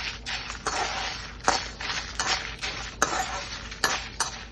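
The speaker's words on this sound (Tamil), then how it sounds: "எல்லாத்தையும் போட்டு நான் ட்ரை ரோஸ்ட் பண்றேன்" Dried chillies and a lump of asafoetida dry roasted in a pan, with steady close scraping and rattling of a spatula tossing them against the metal, and occasional clinks.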